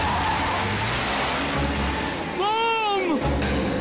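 A car brakes hard to a stop, its tires squealing in a rising then falling whine for under a second over a steady road rumble.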